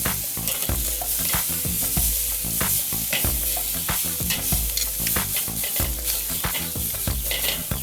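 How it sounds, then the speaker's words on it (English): Prime, heavily marbled New York strip steaks sear on a hot grill, giving a loud, steady crackling sizzle with repeated sharp pops and bursts as fat drips and flares up, close and continuous with no talking. "these are prime, so they're really fatty, so we're getting some flare-ups"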